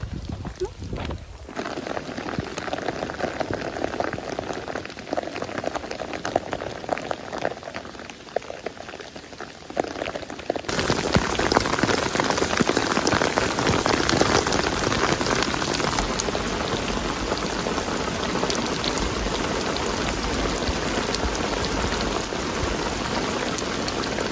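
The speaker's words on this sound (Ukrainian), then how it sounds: "Знову дощ." Steady rain patters densely on leaves and ground in a Tenerife forest, a constant close hiss that grows heavier and louder midway through.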